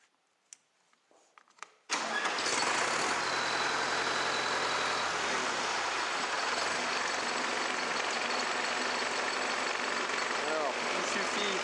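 A Deutz 6206 tractor engine cranks and catches after a few quiet knocks, then runs on as a loud, steady diesel rumble and clatter close by, a voice talking faintly over it.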